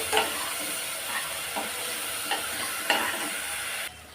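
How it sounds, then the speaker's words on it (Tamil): Raw coriander rice mixture sautéing in a pan, with a steady sizzle and frying hiss throughout and a few soft scrapes of stirring spaced along it, close and moderately loud, no talking. "இதை ஒரு 2 நிமிஷத்துக்கு நல்லா பச்சை வாசனை போகிற அளவுக்கு நல்லா வதக்கி விடணும்"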